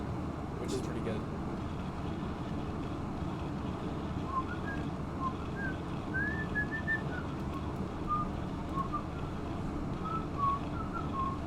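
Faint whistling of a tune from Zelda, a short wavering melody of high notes over a steady low background rumble and noise.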